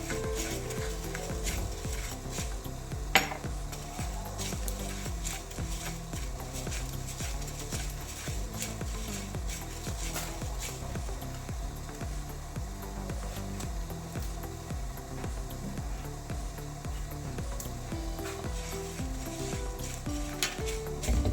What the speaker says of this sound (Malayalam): ഇത് നമ്മുടെ ചോറ് വയ്ക്കുന്ന അരിയാണ് ഇതൊരു ഒരു സ്പൂൺ ഉണ്ടാവും ഇതൊന്ന് വറുത്ത് മാറ്റിക്കാം